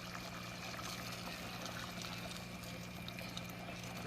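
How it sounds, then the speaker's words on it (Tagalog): Water poured into a pot of Filipino chicken kinamatisan stew, a steady close pouring wash over a low background hum. "Lagyan natin ng tubig"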